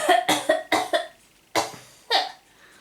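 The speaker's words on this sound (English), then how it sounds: "You're coughing instead" Several sharp, loud coughs from one person close by during a tabletop game session, a quick burst of four followed by two more spaced apart, with no talking.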